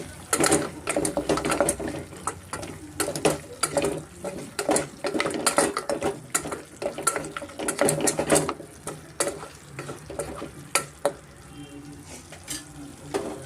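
Mutton leg soup masala with coriander powder is stirred in a pot, with repeated scraping and clattering strokes of a utensil over a sizzling base, close and busy, no talking.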